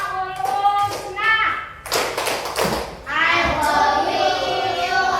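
Indonesian classroom children clap in rhythm to the Asmaul Husna chant, bursts of sharp claps coming in patterned groups mixed with children's voices chanting along throughout.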